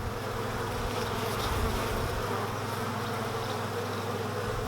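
Honeybees buzz over hive frames during a beehive inspection in the UK, a steady dense hum with no pauses, moderately close.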